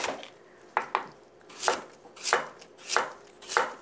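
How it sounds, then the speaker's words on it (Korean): A knife chops through autumn radish on a cutting board, cut into pieces for braised mackerel; two sharp close cuts come first, then four heavier, evenly spaced chops, with no talking. "무를 먹기 좋은 크기로 잘라서 냄비에다가 넣어 주세요"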